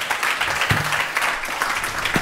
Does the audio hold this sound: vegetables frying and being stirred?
no